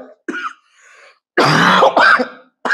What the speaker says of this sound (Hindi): सॉरी थोड़ी खांसी बढ़ गई है।